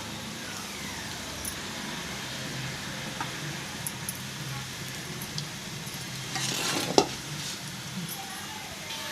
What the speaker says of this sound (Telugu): ఇవన్నీ కూడా బాగా వేగాలండి. రెడ్ కలర్లో వచ్చేంత వరకు కూడా వేగాలి.